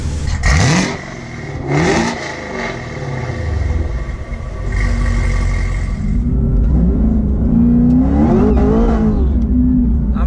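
A Chevrolet Camaro ZL1 with Kooks headers roars on a dyno in third gear, loud and close, with a couple of sharp early revs followed by a long sustained pull that climbs in pitch.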